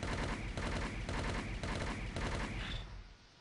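Rapid, rhythmic bursts of gunfire from the S Gundam Deep Striker's cannon in SD Gundam Online play loud and continuous for about three seconds, then drop away.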